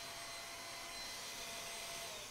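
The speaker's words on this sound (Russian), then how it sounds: "Прости, пожалуйста, я выключила пылесос, чтобы тебе было удобно отвечать." A compact upright vacuum cleaner with vertical parking runs steadily with a continuous broadband whir, loud and close, with no talk over it.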